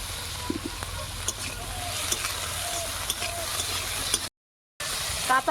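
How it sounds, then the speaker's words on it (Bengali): Raw tomato frying lightly in a pan with a pinch of salt, a continuous sizzle with spoon scrapes and light taps, close by, briefly cutting to silence near the end before resuming. "টমেটোটা হালকা করে ভেজে নিয়েছি"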